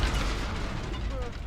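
An Incendio fire spell is cast in Hogwarts Legacy, giving a dense, roaring, booming blast that fills the whole short moment at close range.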